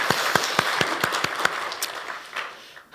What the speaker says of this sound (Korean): 한번 하나님께 감사의 박수로 한번 영광 돌리면 좋겠습니다